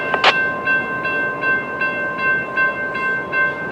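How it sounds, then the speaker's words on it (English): A train in Jacksonville, Florida approaches with a steady rhythmic rumble and regular clacking pulses, tonal hum underneath, growing nearer; a brief sharp squeal at the start. "towards us comes a train"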